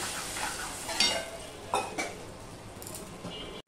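Chilli chicken sauce sizzles in a pan as it is stirred and sautéed, with a steady frying hiss broken by a few scraping clinks of a spatula against the metal, close and fairly quiet.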